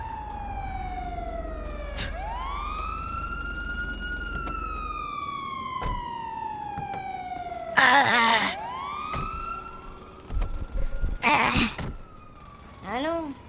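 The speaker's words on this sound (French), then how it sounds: "c'est pour une ambulance immédiatement" A wailing ambulance siren from the GTA RP video game sweeps up and down in long repeated glides, loud and close. Brief bursts of other game noise interrupt it toward the end.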